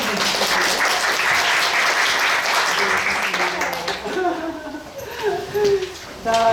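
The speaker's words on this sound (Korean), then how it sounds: "송혜나 선생님께 박수 한번 주시고요" Lecture audience applauding the teacher after a special lecture: dense, even clapping fills the room, then thins out as voices begin talking over the last scattered claps.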